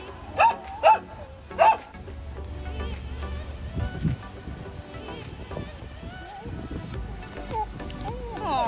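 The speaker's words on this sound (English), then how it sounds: "but Genie stopped to see some dogs" Several dogs bark in three sharp, loud bursts near the start, encountered on a morning walk after a game of fetch, followed by steady outdoor wind noise and faint background sounds.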